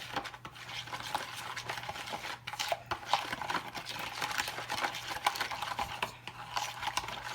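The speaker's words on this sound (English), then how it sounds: "Let me stir all this up." A utensil stirs a chunky t-bone steak marinade with salt in a bowl, giving a steady run of close scraping, clinking and sloshing strokes under a low background hum.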